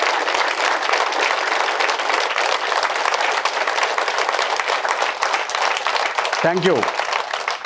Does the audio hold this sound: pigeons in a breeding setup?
no